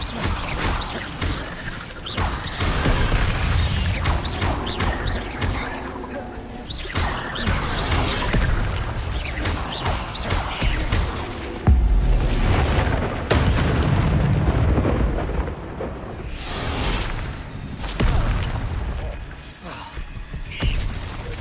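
Video game spellcasting in Hogwarts Legacy, Accio and Incendio spells: repeated booming whooshes and crashing bursts of magic, with voices speaking at times between the blasts.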